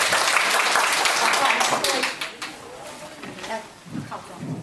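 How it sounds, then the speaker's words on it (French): Applause from a school audience at a Chinese calligraphy contest, dense clapping at first that thins and fades out, with voices and murmuring rising toward the end. "On va applaudissez s'il vous plaît."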